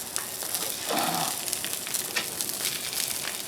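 Sausages frying slowly over low heat on a Blackstone griddle, a soft continuous sizzle with faint crackles and a brief scrape of stirring partway through.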